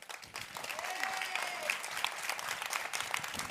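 Audience in a room applauding to vote for Donald Trump in a show of hands by clapping, steady moderate applause with scattered cheers and a few voices underneath.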